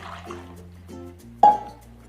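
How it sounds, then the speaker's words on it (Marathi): Heated water is poured into a pot of cooking spinach (palak) masala, with faint clinks first, then a short, sharp splash and gurgle near the end. "ह्यात थोडंसं आपण हे गरम केलेलंच पाणी घालून घेऊया"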